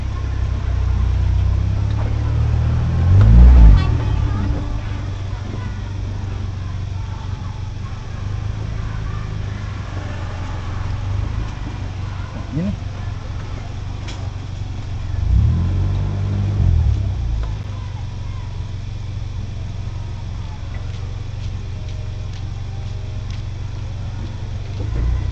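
An engine on a fire response vehicle runs at a steady low idle close by. It swells briefly twice as the revs rise, over faint background noise, and there are no clear voices.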